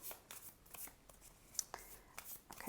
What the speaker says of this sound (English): This is always a more difficult deck to shuffle because it's a matte.